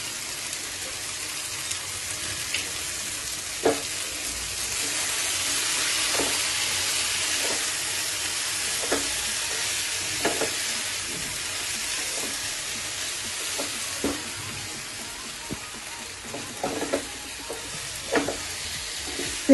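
Masala stir-fried in a pan for a pepper capsicum paneer dish, a continuous close sizzle with repeated scraping clicks from stirring.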